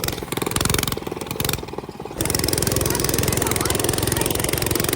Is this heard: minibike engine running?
yes